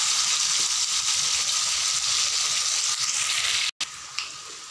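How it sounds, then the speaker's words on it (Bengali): Potatoes frying in a pan with oil for a Bengali fish curry, giving a loud, steady hiss and crackle throughout, with a brief break near the end. "আলুগুলোকে লাল করে ভেজে নিব।"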